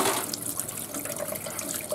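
A large crayfish is rinsed under a running kitchen tap, a steady close splash of water over the shell filling the whole stretch with no talking.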